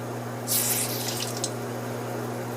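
Water trickles inside a reverse osmosis filter, a short splashing burst that fades within about a second over a steady low electrical hum.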